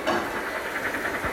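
A Microspace steam locomotive ride gives off a steady, fairly loud steam hiss that pulses faintly throughout, with no talk over it.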